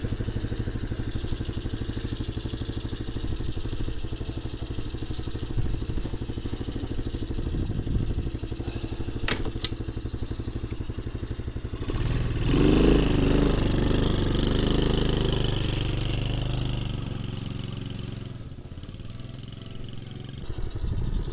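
A DUX children's quad bike engine runs steadily at idle, a continuous close low rumble that swells louder for a few seconds midway before settling back.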